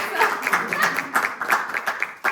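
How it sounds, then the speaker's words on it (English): Audience clapping for panelists at the close of a mental health awareness panel discussion, a steady burst of applause filling the room for about two seconds. "I'd like to thank everyone for attending and give our panelists a round of applause"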